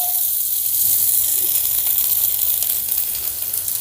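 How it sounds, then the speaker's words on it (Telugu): Finely chopped garlic, two tablespoons, sizzling in hot oil in a pan, a steady bright hiss that holds at an even level for the whole stretch with no talking. "ఆయిల్ వేడైందండి సన్నగా తరిగిన రెండు టేబుల్ స్పూన్ల వెల్లుల్లి ముక్కల్ని వేసుకుందాం"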